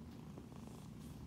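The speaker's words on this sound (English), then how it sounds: "Started to purr." A kitten, not feeling well, purrs softly and steadily up close, a faint continuous rhythmic rumble with no talking.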